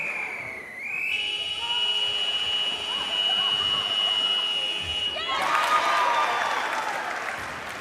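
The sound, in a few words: end-of-quarter buzzer in netball arena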